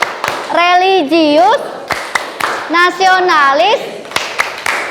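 A class of children chant rhythmic syllables in unison during the Tepuk PPK classroom yell, their voices rising and falling in two bursts, punctuated by sharp, spaced hand claps.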